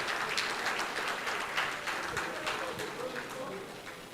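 A crowd at a national day of tribute for the late Chief Mbazulike Amechi gives a speaker a round of applause. Dense, fairly distant clapping fills the hall steadily, with a few sharper claps standing out before it thins slightly.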